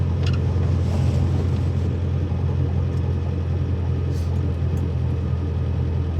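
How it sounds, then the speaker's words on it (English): A car fitted with individual throttle bodies, converted from carburettors, crawls through town traffic with a steady low engine rumble and cabin drone, loud and continuous, with faint clicks and no voices. "So I'm just driving around town at the moment, stuck in some traffic."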